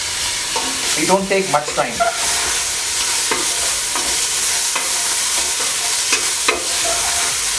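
Gongura leaves frying in a pan make a loud, continuous sizzle with spatula scrapes and clatter in a burst early on, then periodic stirring knocks, while a voice speaks briefly.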